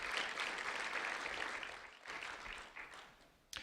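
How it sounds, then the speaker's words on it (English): A community event crowd applauds volunteers, fairly faint, distant clapping from many hands that fades partway through, picks up again briefly, then ends with a sharp knock. "So a round of applause for our voice volunteers helping us."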